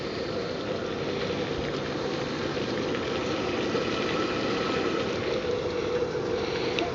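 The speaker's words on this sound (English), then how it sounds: "That's a boil." Water comes to a rolling boil in a pot on a camping stove, a steady, close bubbling roar with a constant hiss and no voices.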